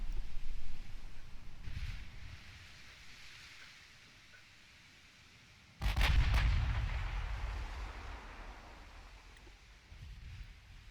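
Naval gunfire from the Scharnhorst battleship in Ultimate Admiral Dreadnoughts. Heavy guns boom a few times, one muffled early blast and a much louder one midway, each trailing into rumbling decay over faint wind-like background.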